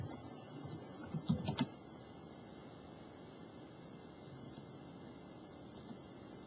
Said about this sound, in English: Done typing all of that.